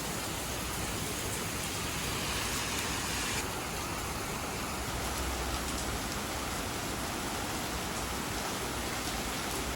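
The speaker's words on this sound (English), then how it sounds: "it started raining, like a lot" Heavy rain pours down steadily, a thick continuous wash of drops on surfaces throughout, moderately loud with no talking.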